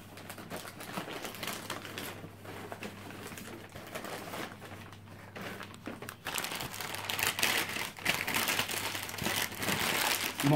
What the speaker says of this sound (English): More packing material.